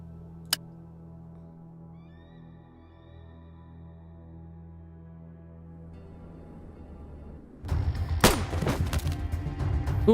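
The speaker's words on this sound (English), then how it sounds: "let's use my pistol" Pistol shots in the post-apocalyptic RPG A.T.O.M. ring out in a loud close burst of several sharp cracks after a long quiet stretch of low droning ambience, with one faint click near the start.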